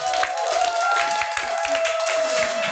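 Applause from a small group at a WEETH business group meeting, a continuous patter of clapping held at an even level over a faint steady tone in the room.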